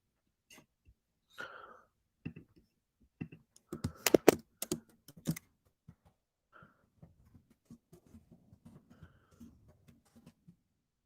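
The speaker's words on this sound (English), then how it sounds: "So I'm just going to type it here." Typing on a computer keyboard, a run of quick, light key clicks in irregular bursts with a few louder taps in the middle, close and alone without talk.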